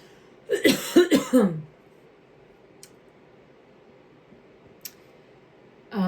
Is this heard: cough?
yes